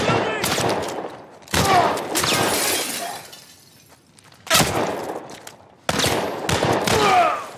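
Bursts of gunfire with glass shattering in The Last of Us Part 1, loud sharp volleys arriving in three or four separate clusters split by brief quieter gaps, with faint voices among them.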